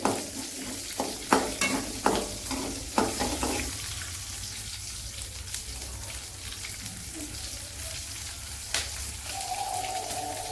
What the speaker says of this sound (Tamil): கொஞ்சம் பொன்னேரமாக வர மாதிரி நல்லா வதக்கிட்டு